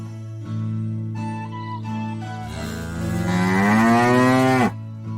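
A cow gives a long, loud moo that swells and rises in pitch before cutting off, set over a steady tonal background.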